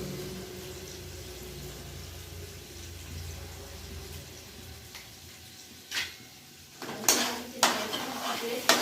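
Metal utensil scraping and clinking in a pan while food is stirred with vinegar and tomato sauce, quiet at first, then a few louder knocks and clatters near the end.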